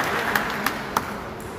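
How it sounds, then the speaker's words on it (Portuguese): Applause for honoured heroes at a recognition ceremony, a steady wash of clapping from a gathered audience, with a few sharper individual claps standing out. "Uma salva de palmas para os nossos nobres heróis"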